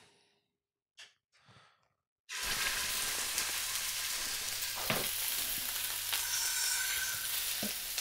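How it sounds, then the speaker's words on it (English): Beer-braised short ribs hitting hot oil in a pan burst into a loud, steady sizzle after a couple of seconds of near silence, frying continuously with occasional pops and crackles. "And then pop these guys in and brown them"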